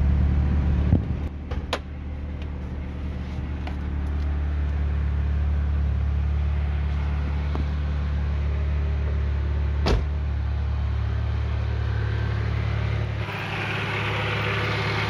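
A cold 1994 Honda Accord four-cylinder injection engine idles steadily and close by with a loud, even low hum, a few faint clicks and knocks heard over it.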